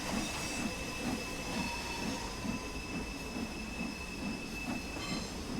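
A Stanier 8F steam locomotive pulls away in the Train Sim World game, with steady, evenly spaced chuffs over a constant hiss and a faint high whine. No one speaks.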